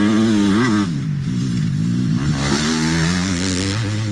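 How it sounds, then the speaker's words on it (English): Dirt bike motorcycle engine revving loud and close, a steady raspy drone that rises and falls in pitch over several seconds, heard alone. "You're going to hear the bike."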